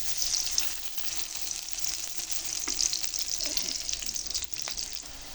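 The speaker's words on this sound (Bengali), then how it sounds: "পেঁয়াজগুলো ভাজা হয়ে গেছে মোটামুটি" Onions fry in oil in a pan for a village mustard-paste dish, giving a steady close sizzle and crackle with occasional stirring, no voices over it.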